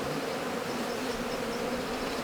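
Honey bees buzz steadily and densely throughout a hive inspection, a continuous close swarm hum with no talk.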